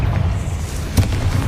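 Confringo spell blast in the Hogwarts Legacy game, a deep booming explosion with a sharp burst near the middle over rumbling low-end noise.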